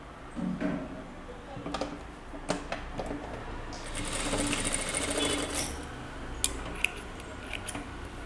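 A sewing machine stitches a deep-neck kurta, its needle running in quiet bursts with short pauses and a few sharp clicks from handling the fabric, and no one speaking.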